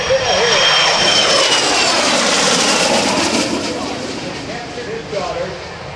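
Sea Harrier FA2 jet roaring past during an air show demonstration in Cleveland, a loud, sustained jet engine rumble and whine that slowly fades toward the end, with an announcer's voice over it.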